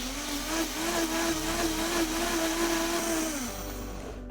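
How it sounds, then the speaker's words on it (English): A blender purees roasted butternut squash soup with corn in one loud, steady whirring drone that drops slightly in pitch before settling, with no talking. "Going to go ahead and blend this."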